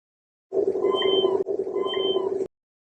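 A talkative cat yapping in a higher pitch to call for attention: two drawn-out, tonal meows of about a second each, close and clear, separated by a brief break and followed by silence.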